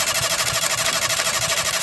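Modified Maruti Suzuki Zen car engine running right after starting, a steady close throbbing idle with even pulsing rhythm throughout, no talk over it.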